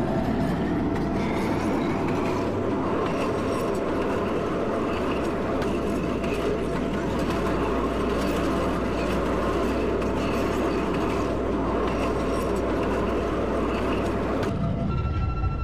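A CTA Red Line Series 5000 train in a Roblox train simulator runs steadily with a continuous rumbling roll and faint rail clatter, then the sound cuts off abruptly near the end.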